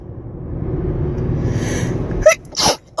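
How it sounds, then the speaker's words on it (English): Low rumbling background gives way to a single sharp, close sneeze, followed by a quick breathy exhale. "Oops. Sorry, you guys. It's that time of year. I'm sneezing."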